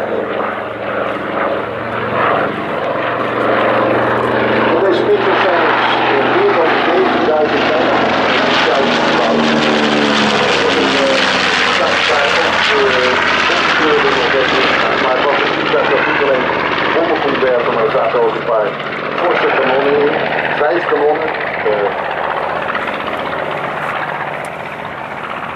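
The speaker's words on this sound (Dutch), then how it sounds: "het meest gebouwde tweemotorige vliegtuig van de Tweede Wereldoorlog" A B-25 Mitchell twin-engine WWII bomber flies a solo display at a Leeuwarden air force open day, a loud, sustained propeller and piston engine roar that swells and fades steadily across the whole stretch.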